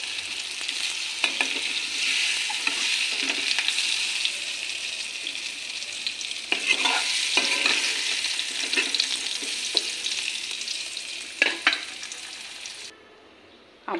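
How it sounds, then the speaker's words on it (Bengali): Potato pieces frying in a pan give a steady close hiss and sizzle, with occasional stirring scrapes and crackles that stand alone with no voices, cutting off just before the end. "আলুটা ভাজা ভাজা হয়ে যায়।"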